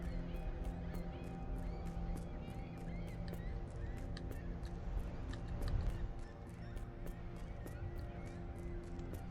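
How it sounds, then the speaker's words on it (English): Noisy birds near a lighthouse in a video game, a steady layered din of honking and squawking calls repeating over a continuous ambient bed, moderately loud throughout. "Why are the birds making so much noise?"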